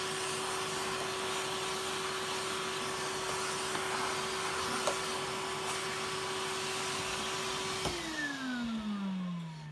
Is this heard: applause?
no